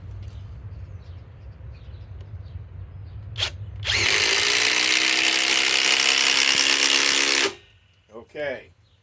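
An impact driver drives a 5/16 by 3 inch lag screw into a piece of cut wood, a loud close burst of hammering motor whine lasting about three and a half seconds, with faint speech just after it.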